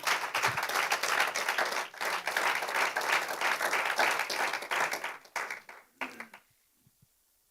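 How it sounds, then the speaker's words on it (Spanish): Congregation applause during a Spanish-language church service: a full crowd claps steadily, then thins out into scattered claps and fades to silence near the end. "Regálele un aplauso al Señor."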